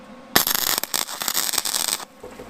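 A Vulcan Omnipro 220 welder fires a tack weld: a sudden loud crackling, sizzling burst lasting about a second and a half, then cutting off to a quiet hum.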